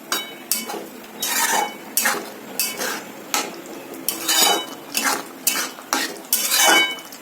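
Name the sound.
stirring tamarind pulp and jaggery into sambar in a pot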